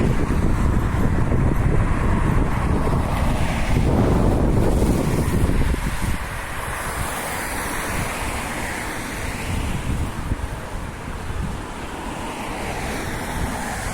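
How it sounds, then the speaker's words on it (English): Strong wind gusting around a stealth campsite at Kirkton Park at night, a loud continuous roar that swells heavily for the first six seconds, then eases to a steadier, softer buffeting. "oh, that feels a nicey wind"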